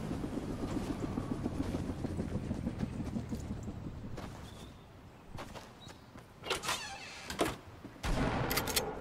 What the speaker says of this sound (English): Where's that helicopter at?